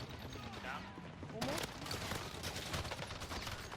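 Gunfire in the video game Warzone: dense, continuous bursts of automatic shots that grow sharper midway, heard under game noise and a faint voice.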